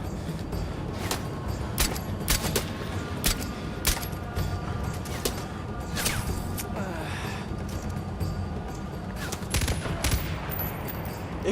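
Gunfire rattles through a firefight in the video game Far Cry 4, Valley of the Yetis DLC, with repeated sharp shots and short bursts over a dense, noisy game mix. The shooting stays loud and steady throughout.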